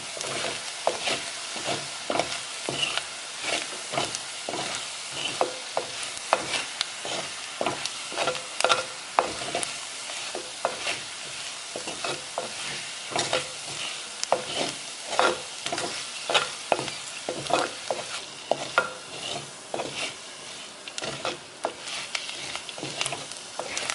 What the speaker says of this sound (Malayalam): നമുക്കിനി ഇതെല്ലാം കൂടെ നന്നായിട്ട് വഴറ്റിയെടുക്കാം.